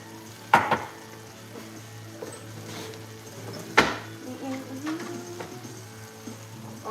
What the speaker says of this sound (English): I don't want to boil the scallops. I want them to sear.